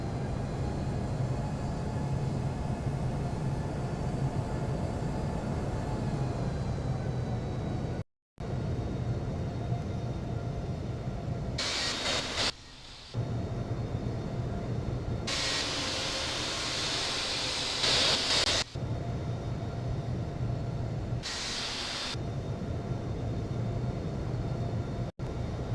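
An airliner taxis in the Infinite Flight flight simulator game at Birmingham airport, a loud, steady engine whine and rushing hum that runs throughout, broken by a few brief gaps and bursts of brighter hiss.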